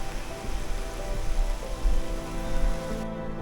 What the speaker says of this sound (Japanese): 雨も少し強くなってきてしまいました。